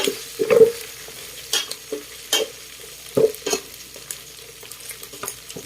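Vegetables frying in oil for pakbet, an Ilocano dish, are stirred in the pan, giving a few sharp scraping clacks and a louder burst near the start, over a soft steady sizzle with no talk.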